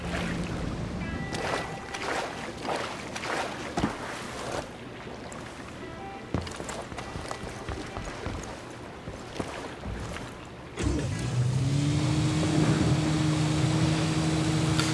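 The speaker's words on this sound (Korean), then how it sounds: "여러분들 배 타고 갑시다" A boat engine in the video game Ghost Recon Wildlands, set in Agua Verde national park, hums under splashing water, then rises into a louder steady drone with a rising whine as the boat speeds up.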